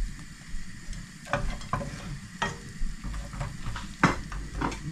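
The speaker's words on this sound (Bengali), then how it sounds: "বাটারের মধ্যে গার্লিক এবং জিঞ্জারটাকে আমি একটু ভেজে নেব।" Garlic and ginger frying in butter in a pan, a soft steady sizzle with repeated stirring scrapes and clinks throughout.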